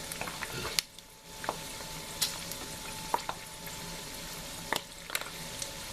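Oil sizzles steadily as pork skin fries into cracklins, with irregular sharp pops and crackles bursting out every second or so, close by and moderately loud.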